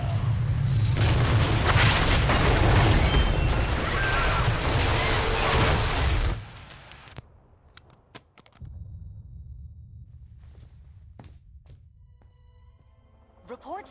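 A massive explosion in the video game Marvel Ultimate Alliance 2 roars loud and sustained for about six seconds, then cuts to a quieter rumbling scene with scattered thuds and a voice.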